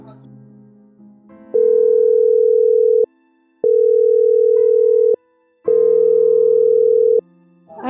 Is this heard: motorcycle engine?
no